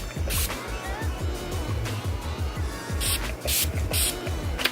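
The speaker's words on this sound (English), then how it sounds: "brutal setting spray" Bursts of setting spray hiss onto a face in short, close pumps, several quick spritzes in a row over background rustle and low clatter.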